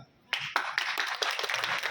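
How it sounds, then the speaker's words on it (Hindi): An audience clapping at a farmers' talk about an insecticide product: a burst of hand claps begins abruptly after a brief quiet moment, then continues as uneven, fairly close clapping from a modest group. "और तालियां अब बजा देना।"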